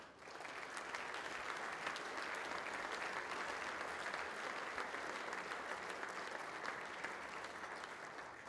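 An audience at the 2014 Bob Rose Lecture gives sustained applause, a steady wash of many hands clapping that holds evenly throughout, heard at moderate distance.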